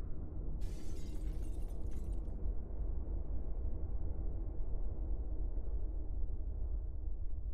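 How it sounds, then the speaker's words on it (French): A loud explosion effect from the horror game Paranormal Place bursts with a sharp, crackling high-end shatter, then a deep low rumble lingers steadily for several seconds. "Explosion."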